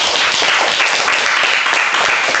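A crowd applauds a speaker at an Augmentation Lab talk, a dense, steady wash of many hands clapping at once, loud and continuous throughout.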